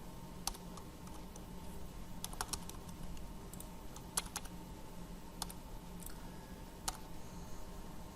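Typing on a computer keyboard while writing Java code, a steady run of light, irregular key clicks with a few sharper taps, close and moderately quiet, no voice.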